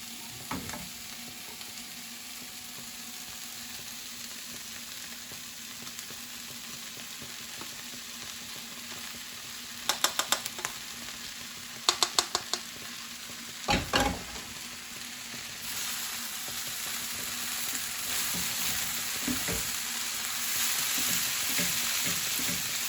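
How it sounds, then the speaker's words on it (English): Rice is stirred into spiced lamb frying in a hot pan, with steady sizzling and brief clusters of scraping stirring clatter midway through. No one speaks. "And now I'm going to start adding the rice."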